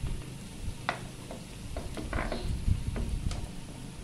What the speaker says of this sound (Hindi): और इसको कर लेंगे फ्राई।